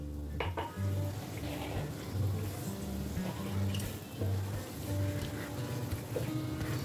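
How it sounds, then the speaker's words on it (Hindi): Semolina and cardamom sizzle in hot ghee while a spoon stirs through the pan, a steady close crackle with soft scraping strokes and a low hum underneath. "घी हमारा गर्म हो चुका है, ये इलायची अब हम डालेंगे और साथ ही ये सूजी।"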